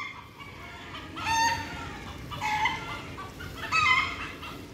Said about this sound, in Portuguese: você ouve o som de galo, de galinha, de pássaros